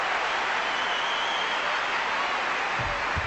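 A big crowd applauds women's gymnastics at the Superdome during the 2000 Olympics qualifications. The applause is a steady, far-off, even wash of clapping with a couple of low thumps near the end.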